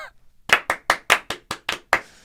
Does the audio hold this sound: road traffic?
no